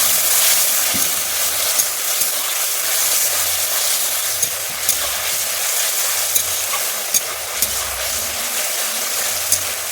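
Fried poppy seed paste, thinned with water, is stirred in a pan for a pointed gourd posto dish, giving a steady sizzling hiss throughout with occasional light scraping ticks. No one speaks.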